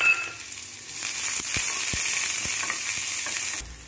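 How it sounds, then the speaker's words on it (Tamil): Onions and grated coconut sauté in a pan for beetroot chutney, giving a close, even frying hiss broken by a few sharp stirring clicks. "தேங்காய் வெங்காயம் எல்லாம் வதங்கட்டும்."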